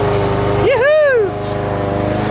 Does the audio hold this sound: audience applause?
no